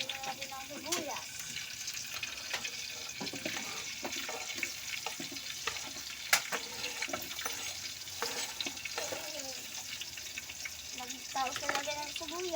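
Onions sizzling in a pan while eggs and onions are being cooked, a steady crackling fry running throughout, joined by running tap water and a few sharp clinks, with voices talking faintly underneath.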